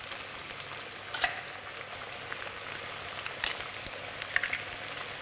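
Tuna added to a gently bubbling pan for a rice dish, with a soft steady simmering fizz and a few sharper clinks and stirring knocks close by, and no voices.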